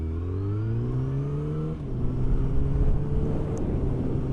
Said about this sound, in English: So when you're riding with an open exhaust,